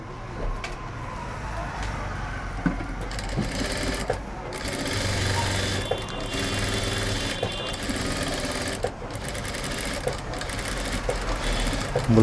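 A tailor's sewing machine stitches thread piping onto straight fabric for a blouse, running in rapid mechanical bursts that start and stop between short pauses, close and fairly loud.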